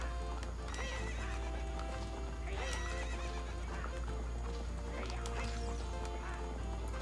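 A horse gallops with quick rhythmic clip-clops and gives several loud neighs and whinnies during a race in Zelda: Ocarina of Time, under a steady game background hum.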